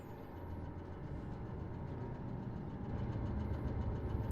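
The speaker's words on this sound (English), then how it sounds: "I can hear an engine." A low, steady engine rumble runs throughout in the Man of Medan video game, gradually swelling louder over about four seconds with a dense, continuous drone and no speech.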